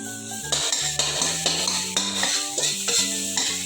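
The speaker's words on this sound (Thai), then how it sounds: "เอาไปคั่วนะครับผม คั่วกับน้ำมันที่เราใส่เมื่อกี้นะครับผม" Pounded chili and shallot paste frying in oil for a beef dish, with a loud continuous sizzle close up. Rhythmic spatula scrapes and clinks against the pan sit over a low humming tonal background.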